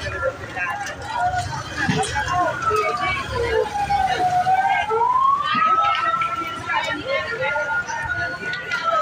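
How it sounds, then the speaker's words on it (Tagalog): A fire truck's wailing siren rises and falls as it approaches a house fire, loud over traffic noise and scattered voices. "Ito na yung bumbero, dumating na yung bumbero."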